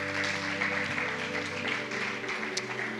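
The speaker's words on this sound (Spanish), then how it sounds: "Aplaude a Dios, por favor," A church congregation claps for God, a steady patter of hand claps mixed with sustained music underneath, moderately quiet and continuous for a few seconds.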